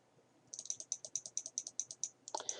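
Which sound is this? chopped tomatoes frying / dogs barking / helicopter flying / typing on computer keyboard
typing on computer keyboard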